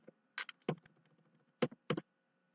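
Keystrokes on a computer keyboard while code is typed into an editor, heard as a few separate clusters of crisp taps and clicks with quiet pauses between them, close and alone.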